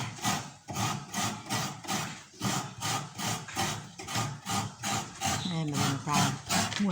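A coconut is scraped on a traditional rabbit-style coconut grater in rhythmic, repeated rasping strokes, roughly a dozen in steady succession, while people talk over the scraping.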